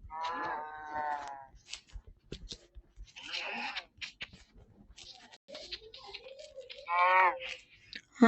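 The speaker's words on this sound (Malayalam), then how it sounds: "തൽക്കാലത്തേക്ക് ഈ പശുവിനെ തല്ലിക്കൊന്ന് അഡ്ജസ്റ്റ് ചെയ്യാം." A cow in the Minecraft video game lets out short mooing calls, one at the start and another near the end, while a person talks over the game sounds in between.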